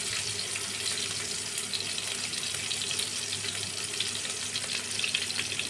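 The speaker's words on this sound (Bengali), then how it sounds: "এখন পেঁয়াজটা আমি ভুনিয়ে নেব।" Chopped onions sizzle in a pan of hot oil, a steady dense hiss and crackle that holds evenly throughout with no voices over it.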